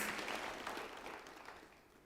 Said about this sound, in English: give him another round of applause for that powerful message